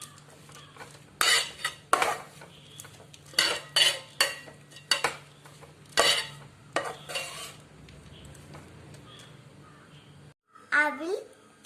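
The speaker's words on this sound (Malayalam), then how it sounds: "സ്റ്റൗ ഓഫാക്കിയിട്ട് നമുക്ക് ഇളക്കി കൊടുക്കാം." Poha snack is stirred in a pan with the stove switched off, giving a series of loud metallic scrapes and clinks of a spoon against the pan at an uneven rhythm, with faint background sizzle and a brief voice near the end.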